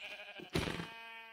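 A sheep in the video game Minecraft lets out one short wavering bleat, clear and moderately loud, over quiet background game music.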